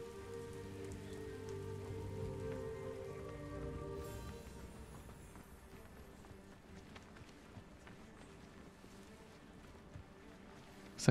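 Soft rain patters down from a magic rain cloud in the video game Hogwarts Legacy, faint and steady under quiet game music that fades out after a few seconds, leaving the pattering alone.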